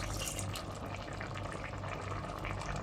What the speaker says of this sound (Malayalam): ഇതിലോട്ട് കുറച്ച് പുളിവെള്ളം ഒഴിക്കുകയാണ് കേട്ടോ